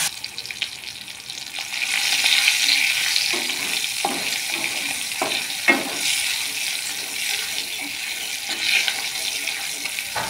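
Dried red chillies, bay leaf, sugar and turmeric fry in hot oil in a pan, giving a steady, close sizzling hiss with a few soft stirring knocks.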